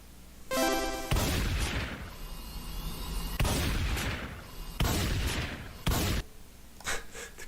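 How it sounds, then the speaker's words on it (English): Loud gunshot sound effects from an indie video game in development fire in a few sharp bursts with booming tails, spaced irregularly, with no talk over them. "The gunshot is still like way too loud."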